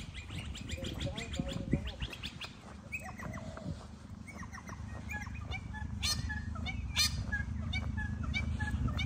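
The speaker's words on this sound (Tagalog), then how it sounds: "Dami ibon." Many birds chirp and honk in a lively mixed chorus along a street near a bus stop, with quick repeated calls over a steady outdoor hum.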